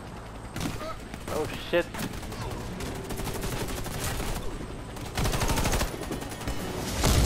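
Gunfire from a sniper and other weapons in the co-op shooter game Warface rattles in bursts and volleys, with a player shouting and talking over the shots.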